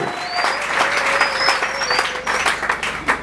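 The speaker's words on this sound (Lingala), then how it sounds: "Acclamez. Et maboko pena Yesu." A church congregation claps and applauds for Jesus during a service, steady dense clapping across the whole stretch with a high voice or whistle-like tone riding over the crowd.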